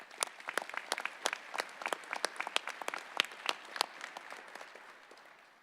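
A seated audience at a sheriff's academy Class 225 graduation ceremony gives fairly faint, distant applause, a dense patter of individual claps that thins out and fades at the end.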